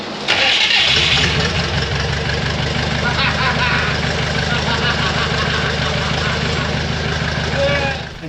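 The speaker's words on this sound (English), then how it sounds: "It's now time to go test fire the engine." Boat engine test fired with its lower end in water-filled buckets: a loud close crank catching and starting within a second, then settling into a steady heavy running drone that continues to the end, with a voice heard over it.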